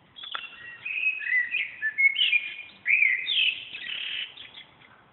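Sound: birds singing on an April evening

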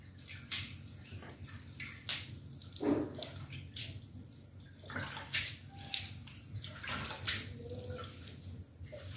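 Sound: washing a buffalo's udder with water

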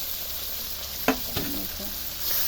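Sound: onions frying and being stirred with dry fish

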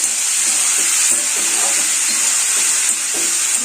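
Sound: potatoes frying in a pan

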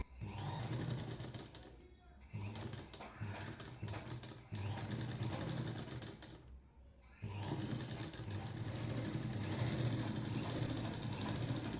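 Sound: sewing machine stitching an Aari blouse

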